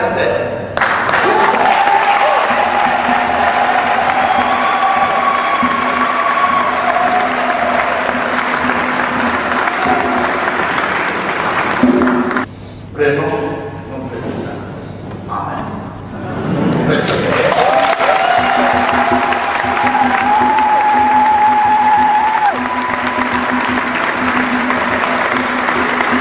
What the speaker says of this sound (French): la grande foule des fidèles a tenu à ovationner